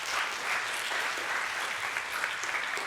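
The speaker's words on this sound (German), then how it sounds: "Einen großen Applaus" An audience at a science talk show event breaks into steady, dense applause that continues without pause for a few seconds.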